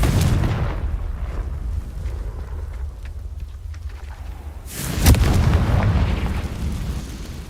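In Hogwarts Legacy, a Confringo blasting curse sets off a deep rumbling blast, then a second sharp explosion hits hard about five seconds later and rolls on into a lingering low roar.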